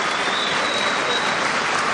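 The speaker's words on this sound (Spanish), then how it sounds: "Aplausos." Boxing arena crowd applauding at the end of a fight, a steady, even wash of clapping with no breaks from start to finish.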